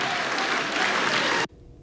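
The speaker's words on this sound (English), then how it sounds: "Big cheers there in the crowd." A large political rally crowd cheers and applauds at a Donald Trump campaign event, a dense, loud roar of clapping and shouts that holds steady for well over a second before cutting off abruptly into near silence.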